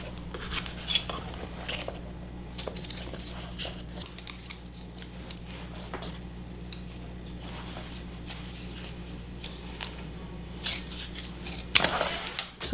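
Scissors cut through fabric and webbing for a homemade tactical chest rig with scattered, close snips and rustles over a steady low hum, ending in a sharper burst of handling.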